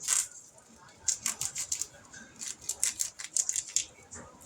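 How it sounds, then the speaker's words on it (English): Scissors snipping open a plastic package of 85/15 ground beef, a quick series of crisp close cuts and crinkles in irregular bursts, with a voice speaking in between. "We're going to cut this open."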